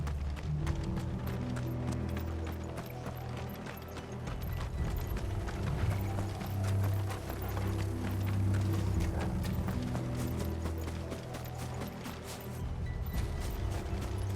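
Galloping horse hooves in the video game Final Fantasy XVI, a steady rapid clip-clop running continuously at close range over low rumbling game music and ambience.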